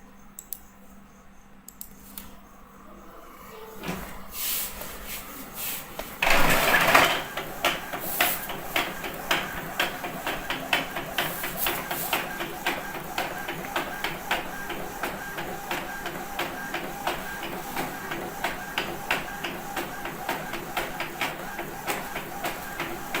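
Printer printing invitation blanks, a few faint clicks at first, then a loud grinding feed and a steady rapid mechanical rattle of the print head continuing close by.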